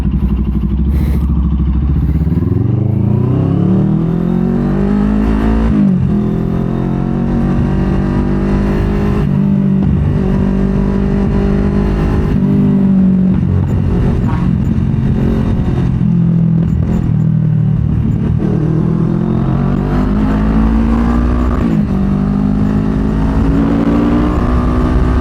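A CFMOTO 700CLX sport motorcycle is heard from inside a helmet with the visor closed and no noise cancellation: a loud, continuous engine drone whose revs rise and fall repeatedly, mixed with wind roar.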